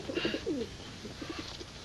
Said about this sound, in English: United States Army Carrier Pigeon number 13576